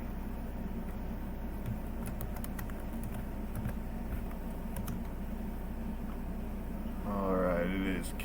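A command is typed on a computer keyboard: soft, irregular key clicks in scattered short runs over a steady low hum, with a voice briefly rising near the end.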